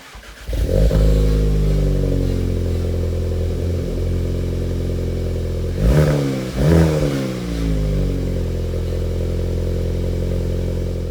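A modified VW Golf R Mk7.5 with a Remus catback exhaust cold-starts in a garage: a loud starter catch into a steady, droning high idle, a brief rev blip around the middle, then it settles back to a rumbling idle, no talking.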